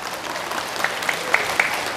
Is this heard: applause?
yes